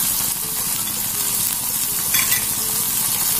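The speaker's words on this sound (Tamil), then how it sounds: "தக்காளியை ஒரு ஃபிரை நல்லா மசிகிற அளவுக்கு வேக விட" Tomatoes and curry leaves fry in a pan, making a continuous, loud, dense sizzle that stays even throughout, close up with no talking.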